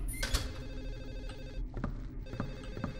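In the horror game Silent Hill 4, a telephone bell trills in short repeated bursts, moderately loud against a low hum of game ambience, with no one talking.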